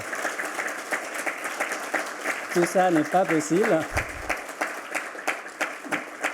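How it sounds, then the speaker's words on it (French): Audience applause for panelists at a CFA ESG conference, steady clapping throughout with a speaker's voice talking over it in the middle. "Donc un grand applaudissement parce que sans leur sagesse"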